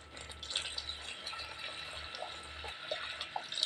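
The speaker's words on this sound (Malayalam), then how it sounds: "ഇനി ഇതിനകത്തിലോട്ട് തേങ്ങയുടെ 2 പാൽ ഒഴിക്കുവാണ്" Coconut milk is poured into a pan of jackfruit payasam, a soft continuous liquid splash and trickle lasting a few seconds, close and fairly quiet, with no talk.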